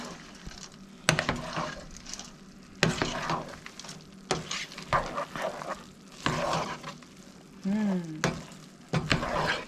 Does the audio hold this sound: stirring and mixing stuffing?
yes